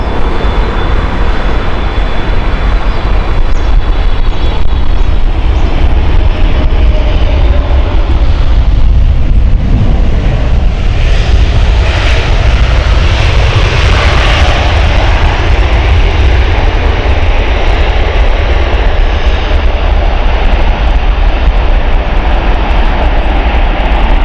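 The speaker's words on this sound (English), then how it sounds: "is that an Emirates A380 I see taking off?" Emirates Airbus A380 taking off at Heathrow Airport, a loud, deep, continuous jet roar with heavy low rumble that swells and churns through the middle, then holds steady as the aircraft climbs away, with no talk.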